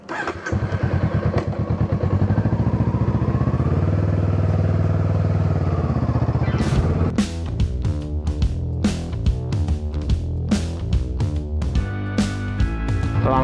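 A Honda Rebel 500 motorcycle engine rumbles loudly and steadily, then revs and shifts with sharp bursts and mechanical clatter as it gets underway.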